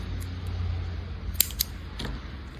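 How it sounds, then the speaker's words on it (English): A few quick snips of scissors cutting yarn, close and crisp, two sharp cuts followed by a softer third, over a quiet background hum. "I'm going to grab our scissors and cut our yarn"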